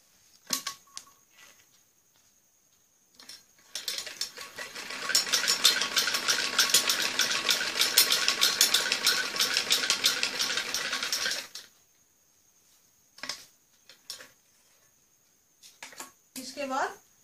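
Sewing machine stitching a trouser waistband belt to its lining: a steady, fast mechanical whirr that runs continuously for about seven seconds, framed by brief clicks and handling noises before and after.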